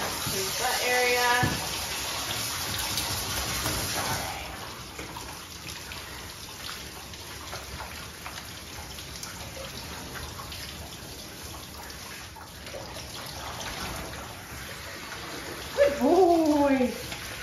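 A stream of water rinsing a Pomeranian dog in a tub, a steady close splashing flow, louder at first and then softer, with a brief voice near the end.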